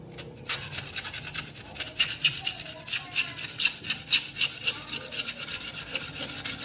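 A sharp edge of a homemade slingshot being smoothed blunt, with rhythmic back-and-forth rasping strokes, close and fairly loud, speeding into a steady rubbing pattern after a brief pause at the start, with no talk.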